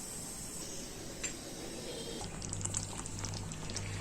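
Sago pearls cook in boiling water on a medium stove flame for fasting kheer, a faint steady bubbling and simmering hiss with a low hum joining partway through.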